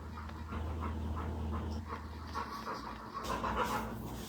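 A small dog pants in quick, soft, breathy bursts close by, with a faint whimper slipping in toward the end, in a quiet indoor setting.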